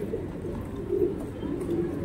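Pigeons coo softly in a loft in Vellore, their low murmuring calls repeating under a steady bed of background noise, with no talking.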